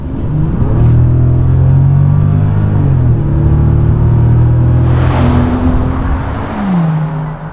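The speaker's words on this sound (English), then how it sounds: "Nothing can escape the W12 sound." Bentley Continental GT with a W12 engine under way, a loud, close, smooth droning engine note that rises and shifts pitch through gear changes, with a brief burst of higher rushing noise partway through.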